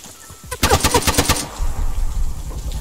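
Automatic gunfire in ARMA 3, a rapid burst of about eight sharp shots close by, followed by a lower engine-like rumble, no talking.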